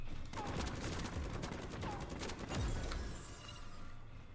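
An ion cannon firing in the Super Mecha Champions mech battle game, a dense burst of rapid, loud crackling shots followed by a sharp sweeping blast and a fading rumble.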